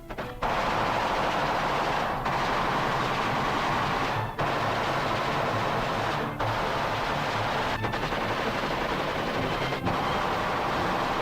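Archival Bonnie and Clyde scene of sustained machine gun fire, a dense continuous rattle of rapid shots with brief pauses every couple of seconds, loud and close, no speech.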